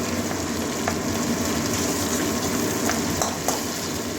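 Spices frying with cumin in hot oil in a pan for a fish head curry with rui fish and gourd greens, a steady close sizzle with faint scraping stirs now and then.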